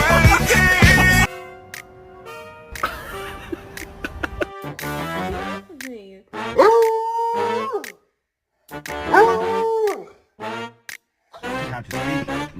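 A pet dog howls in a series of long, wavering drawn-out tones, loud and close, with breaks of silence between the howls and a short burst of sharper sound at the start.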